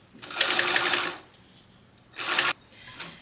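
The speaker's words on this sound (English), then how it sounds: "we're gonna sew this at 3/8 of an inch." Sewing machine with a zipper foot stitching a vinyl bucket bag at a 3/8-inch seam, running in two loud bursts with a short pause between and a brief third start at the end.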